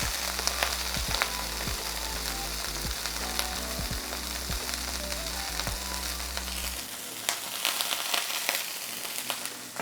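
A thin smash burger patty sizzles loudly on a hot cooking surface while a burger press pushes down on it, with steady frying crackle and a low hum that drops away near the end, leaving bright spitting grease.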